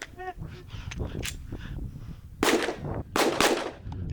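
Glock pistol fired during range drills: after a stretch of background noise, two loud, sharp shots ring out about a second apart, close to the listener.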